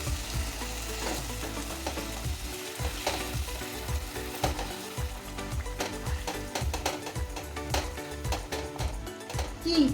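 Pointed gourd with sesame and Gobindobhog rice cooks in a pan with slit green and ripe chilies and hot water, giving a loud continuous sizzle broken by frequent rhythmic scrapes and clacks of stirring close by.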